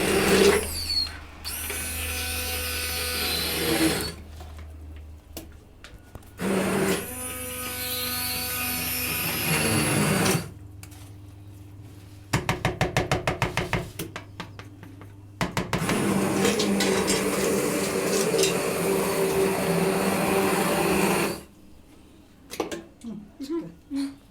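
A blender churns keşkek, the Turkish wheat and meat dish, in a home kitchen, running in several loud whirring bursts that start and stop with short pauses between them, with voices talking during the breaks.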